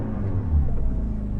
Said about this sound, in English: Hear my exhaust blowing?